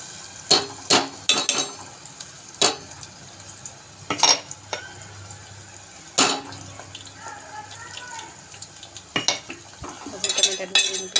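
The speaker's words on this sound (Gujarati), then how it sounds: "ટમેટા ડુંગળીની પેસ્ટ આમાં આવી ગઈ છે. હવે એને સરસ ચડવા દઈએ." Tomato-onion paste is stirred into cooking capsicum in a pan, making scattered sharp metal clinks and scrapes of a spoon against the pan over a soft background, with a voice speaking between them.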